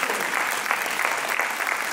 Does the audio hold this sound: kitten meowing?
no